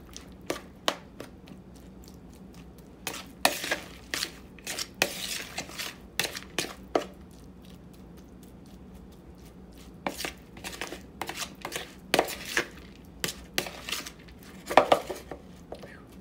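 A utensil scrapes and clacks against a bowl in irregular bursts while flaky walleye is mixed with green onion and Parmesan cheese into a fishcake mixture, close and fairly quiet, with no talking.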